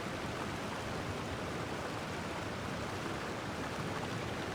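A waterfall in Genshin Impact pours as a steady, soft broadband rush of falling water, even and unbroken throughout, fairly quiet and alone with no talk.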